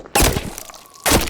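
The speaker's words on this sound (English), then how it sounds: "I didn't realize that plants create an explosion when you hit them" Potted plant in Garry's Mod bursting when struck: two loud, sudden cracking blasts a second apart, with a faint tone between them.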